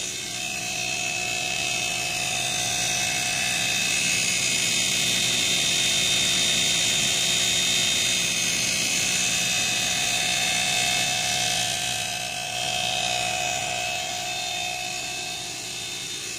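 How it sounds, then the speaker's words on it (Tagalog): An air conditioner compressor, direct-started through a TCL indoor control board, runs with a steady, loud droning hum and a high whine throughout, close by, harsh in tone and without talk. "yung andar ho ng ating compressor, medyo hard yung tunog"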